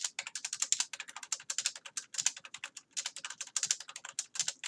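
Rapid keystrokes on a computer keyboard entering data into an Excel spreadsheet, close and crisp, in quick bursts separated by brief pauses, with no talking.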